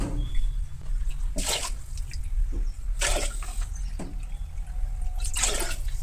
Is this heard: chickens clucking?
no